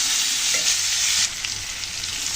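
Pumpkin and mixed vegetables with prawns fry in hot oil while being stirred, a continuous loud sizzle with a scraping stir partway through, no voices.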